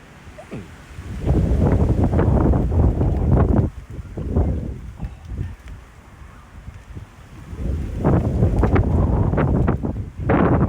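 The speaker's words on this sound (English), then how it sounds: "Should we get out of this wind? Because we're deafening anybody who's listening." Wind buffets a microphone outdoors in long, loud, low rumbling gusts that come and go, with quieter lulls between them.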